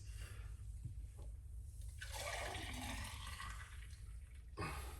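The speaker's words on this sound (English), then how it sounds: "I'm going to pour it off." Homemade lemon, ginger, celery and cucumber detox juice is poured off, with a rushing, gurgling liquid stream that swells in the middle and then fades, over a low background hum.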